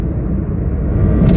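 Heavy traffic jam on the road toward Katra, a continuous low engine rumble from idling and creeping vehicles nearby, steady and loud, with a brief brighter burst near the end.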